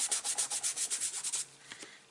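Ink is blotted onto a paper card for a faux leather effect, heard as a quick run of about a dozen close, papery rubbing strokes in an even rhythm, tapering off into a couple of faint brushes.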